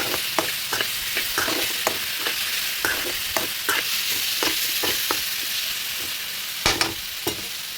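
Red gongura pods fry in hot oil in a pan, a steady dense sizzle broken by sharp repeated scrapes and clacks of a spoon stirring them, close and fairly loud with no talking.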